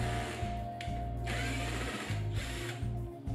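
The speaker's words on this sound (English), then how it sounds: "So I'm starting this off using my standard 18 volt cordless drill" An 18 volt cordless drill whirs and grinds with a hole saw, its pitch wavering as the cutter bites into furniture in short bursts, close and steady.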